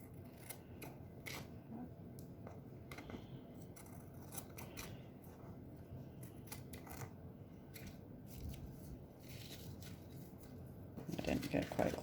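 Scissors snip and trim a sticky adhesive sheet for napkin cards, giving repeated close, quiet cuts at an uneven pace with soft paper rustling, ending in a brief cluster of faster snips.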